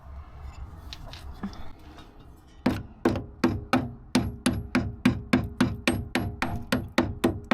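Hammer blows on the rusty bodywork of a Rover P6 2000 car: a steady run of about fifteen sharp, ringing metallic strikes at an even rhythm, close and loud, after a few quieter knocks and handling sounds.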